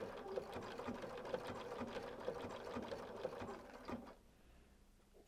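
A sewing machine stitches small heart-shaped applique pieces in a steady rapid whirring chatter, fairly quiet and close, stopping abruptly near the end.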